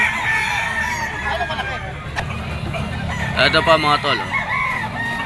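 Gamecocks brought for sale at the Grotto pet market crow repeatedly, several loud calls overlapping near and farther off, while someone talks over them.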